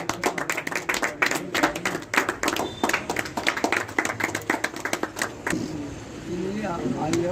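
Crowd applause and clapping at a village Kargil Vijay Diwas commemoration, a dense run of many hands clapping for several seconds before fading into outdoor ambience with voices.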